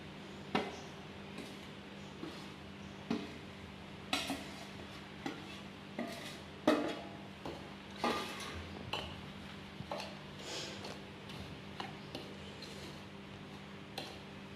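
Roasted coriander seeds being stirred into a homemade garam masala spice mix in a pan, with repeated scraping strokes and light clinks of a utensil against metal, close and fairly quiet, with no voices.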